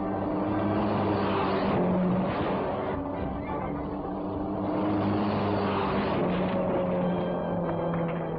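A stunt car roars along at about 80 miles an hour through flaming barriers, a loud, rough, droning engine that swells and fades slightly over several seconds, with no talking.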